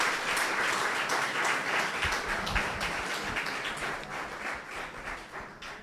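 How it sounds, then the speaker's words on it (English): Steady applause from a conference audience at a research meeting, dense and sustained clapping that fills the room and slowly tapers off toward the end. "So let's give each other a round of applause."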